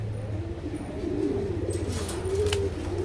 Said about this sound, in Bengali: যারা বাজির কবুতর পছন্দ করেন তারা এই কবুতরগুলো কালেক্ট করতে পারেন।